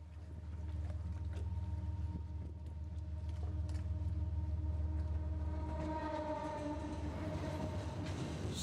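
Crude oil freight train rolling along the railroad near Storm King in the Hudson Valley, a continuous low rumble of cars passing at moderate distance with clanking and wheel squeal building toward the end, no voices.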